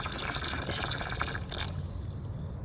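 Water gushes steadily into a big bowl being filled to the brim during garden watering, a loud continuous rushing pour up close that shifts in tone as the bowl fills.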